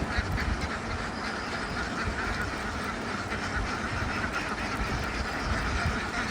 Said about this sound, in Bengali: এই যে আমার হাঁসগুলো এখন অনেক সুস্থই আছে